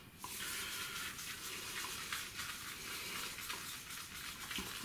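A Simpsons synthetic shaving brush is shaken in a basin full of water, producing a continuous close splashing and sloshing with faint rhythmic pulses throughout.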